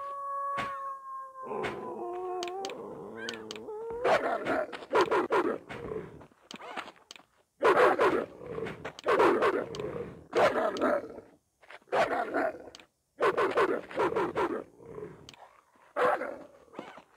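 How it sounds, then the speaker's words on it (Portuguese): Dogs in a survival video game bark in repeated loud bursts, with a whining howl at the start, then clustered barks spaced by short pauses throughout. "Eu tô achando que esses cachorros estão nascendo da caverna"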